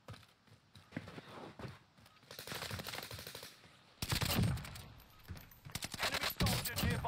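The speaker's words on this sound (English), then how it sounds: "They're shooting straight at me." Gunfire in the battle royale game Call of Duty Warzone: scattered shots at first, then loud rapid automatic bursts in the second half, with game sounds throughout.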